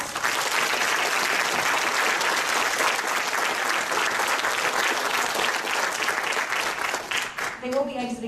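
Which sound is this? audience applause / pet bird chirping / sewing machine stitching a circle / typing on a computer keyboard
audience applause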